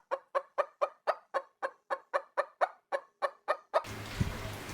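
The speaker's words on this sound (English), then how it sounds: "What does the chicken say?" A chicken clucks in a quick, steady run of about fourteen sharp, evenly spaced calls, close and clear, followed by a short burst of broadband rustling noise at the end.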